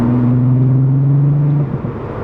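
The engine of a 1987 VW Jetta MK2 hums at a steady pitch with a low rumble, then drops off sharply near the end, up close and loud, with no talking.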